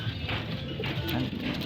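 Racing pigeons coo in their loft, several soft, low, throaty calls close by over a quiet background.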